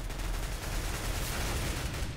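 Rapid gunfire from Counter-Strike: Global Offensive rattles without a break, dense overlapping shots filling the whole short stretch, loud and close with no voices on top.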